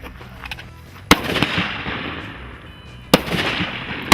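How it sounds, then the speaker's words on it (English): Soldiers fire weapons at targets on an outdoor range, with two sharp, loud gunshots about two seconds apart, each followed by a rolling echo that trails off. "lock and load when you're inside the position, and fire when you're ready"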